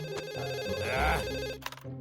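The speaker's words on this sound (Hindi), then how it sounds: "आप कौन फोन कर रहा है मुझे?" A phone ringtone ringing in a Boonie Bears cartoon, a loud close electronic melody of repeating tones lasting about a second and a half, then cut off by short clicks.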